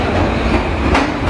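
A New York subway train rumbles loudly nearby, a dense roar of wheels and carriage noise with rhythmic clatter, filling the whole short moment without talking.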